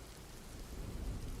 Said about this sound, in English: right now the wind and the rain saw to that their secrets were safe